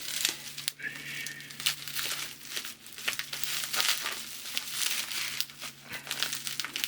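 Packing tape being cut and torn away from the box of a Rayminx/Gigatuttminx twisty puzzle during unboxing, a close, steady run of crinkling and tearing with sharp crackles throughout, no talking.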